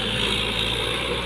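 A steady, loud mechanical drone of a Komatsu excavator's diesel engine running hard in S mode, with a dense rattling texture and no pauses.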